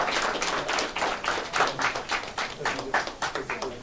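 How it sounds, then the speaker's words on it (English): An audience at an industry and ESG conference gives a round of applause. Individual claps stay distinct and come in a rhythmic, pulsing pattern at close range, and a voice carries faintly beneath them. "Please give them a huge round of applause."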